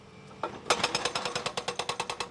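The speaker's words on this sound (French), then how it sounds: "un travail au marteau-piqueur ou un concasseur qui fragmentera les plus gros blocs" A jackhammer breaks up road pavement, starting with a couple of hits and then hammering in a steady rapid series of loud, even blows with no talk.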